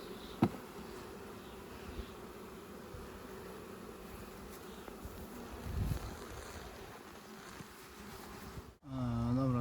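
A steady hum of a large collected honeybee swarm fills the air, with occasional close wingbeats passing by, ending in a sudden louder muffled rumble.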